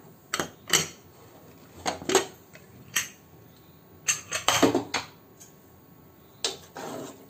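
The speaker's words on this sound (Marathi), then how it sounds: "कुकरची आपली हवा गेलेली आहे. झाकण काढून घेऊया." A pressure cooker lid being handled and removed after cooking mutton, a series of sharp metallic clanks and clinks, some in quick clusters, separated by quiet gaps, close and with no talk.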